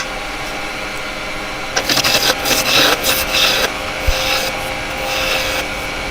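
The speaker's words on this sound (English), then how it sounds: "I'm going to rough it down. I'm just going to use small roughing gouge." Wood spins on a lathe while a small roughing gouge cuts it down, producing a steady rubbing rasp and motor hum with rougher, louder scraping bursts midway through.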